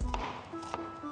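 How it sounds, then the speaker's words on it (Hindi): Kitchen knife slicing through an onion on a cutting board, a few quick chopping taps close by over faint background hum. "प्याज के आप स्लाइस कर लें"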